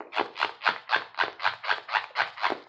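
Rhythmic crinkling of synthetic plastic lace pad material, about eleven evenly spaced rustling crunches in quick succession, close up.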